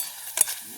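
Appalam (papadum) frying in hot oil in a village home kitchen, heard as two brief bursts of crisp crackling over a faint steady hiss.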